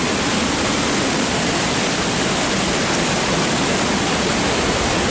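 A steady, loud roar of falling water fills the scene, constant and broadband like a nearby waterfall, with no voices, at Manuaba Waterfall in Tegallalang, Gianyar, Bali.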